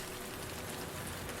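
Rain in the video game Heavy Rain, a faint steady patter of falling rain on surfaces, continuous and even for a moment with no voices.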